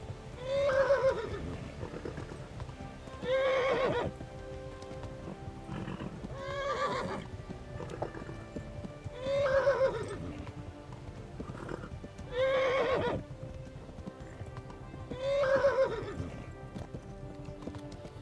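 Horses whinny repeatedly at regular intervals over a steady patter of hooves in the video game Kingdom Come: Deliverance, the neighs loud and close with short gaps between them.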